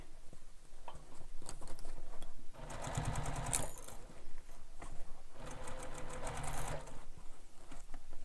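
A sewing machine stitches along the side edge of a handheld bag in bursts of rapid mechanical chatter, stopping and restarting, with quieter pauses of handling between runs.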